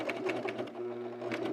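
A sewing machine stitching a Teddy top runs in short even bursts of needle strokes, a steady mechanical whirr with regular clicks, close and moderately loud with no voices.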